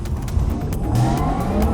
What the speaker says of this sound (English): This is what 761 horsepower sound like in the Porsche of the future.